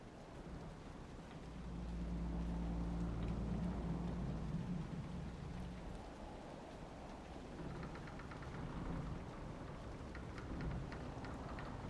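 A rainstorm in the video game Dragon Age Inquisition brings low, rolling thunder rumbling through steady rain hiss, swelling early and then settling into a continuous wash of rainfall.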